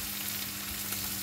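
Chopped onion and garlic sautéing to golden in a hot pan, a steady dense sizzle with no other sounds over it.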